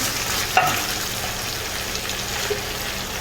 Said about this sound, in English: I'm gonna add my cabbage to this because I want all this flavor cooked all through my cabbage.